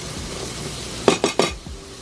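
Onions frying in a pan for a Filipino adobo dish: a soft background sizzle broken by three quick metallic clanks of a utensil against the pan, then a fainter scrape.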